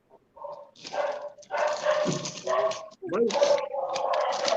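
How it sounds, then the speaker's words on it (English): A dog barking in bursts, loud and close, with whimpering yips between barks and a voice talking amid the noise. "Whose dog is barking? It is insane."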